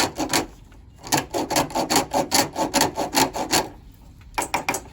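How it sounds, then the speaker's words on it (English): A deburring tool scrapes around the cut end of a copper AC line pipe during a central air replacement, making a rapid series of close, rhythmic rasping strokes with a short pause partway, and no speech. "let's also deburr this one as well"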